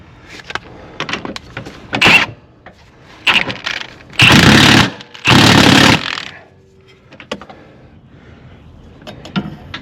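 Lower control arm bolts being tightened on a 2006–2011 Chevy HHR, with scattered ratchet clicks and two loud sustained bursts of an impact-style tool, close by in a quiet garage.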